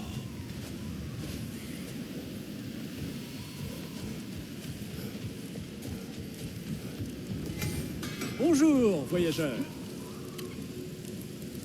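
Stormy weather in the video game God of War Ragnarok, steady rain and windy rumble throughout with a brief louder swell near the end, while a voice speaks in French.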